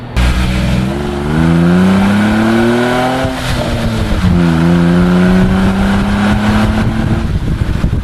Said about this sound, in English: when you can hear the exhaust note